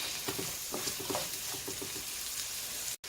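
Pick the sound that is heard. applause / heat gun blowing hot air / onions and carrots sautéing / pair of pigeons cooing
onions and carrots sautéing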